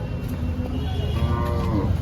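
A large Holstein Friesian cow moos loudly nearby at a cattle market, a long low drawn-out call over a busy outdoor background.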